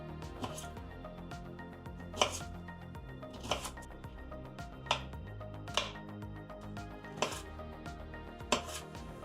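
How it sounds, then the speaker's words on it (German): A knife chops carrots into sticks on a cutting board in sharp, evenly spaced strikes, about one every second, over a faint background of music. "Rüebli in Stiftchen schneiden."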